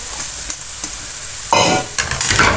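Carrots sizzling in a pan with browned onions while being stirred, a steady loud fry that swells as the pieces are turned, with scraping stir strokes near the end.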